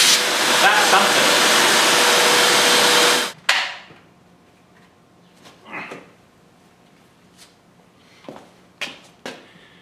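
Vacuum cleaner pulling lint from deep inside a clothes dryer: a loud, steady suction roar for about three seconds that cuts off abruptly, followed by scattered clunks and rustles at close range.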